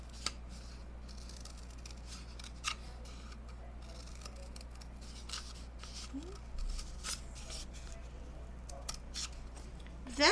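Scissors snip through strips for a homemade ring toss, sharp isolated cuts spaced irregularly over a quiet room, close and fairly faint with a louder burst of cutting at the end.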